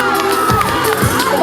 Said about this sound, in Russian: Ваши громкие аплодисменты!